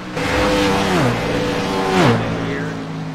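A race car engine revving hard during a live racing broadcast, loud and continuous with two rising-then-falling sweeps in pitch as it accelerates and backs off, a near and steady roar with no voices over it.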